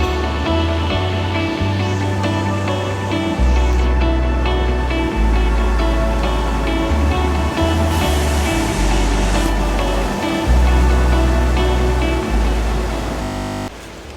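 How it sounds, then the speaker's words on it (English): A big mountain creek along the Mt. Sterling trail rushes in a dense, constant hiss of flowing water, up close and loud, broken by repeated low thumps of wind hitting the microphone. "Man, that's a big creek."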